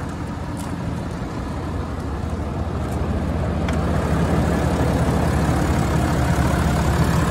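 A 2021 Ram 3500 with a 6.7 liter turbo diesel idles steadily, a loud, close, low rumbling drone that stays constant and swells slightly, without anyone talking.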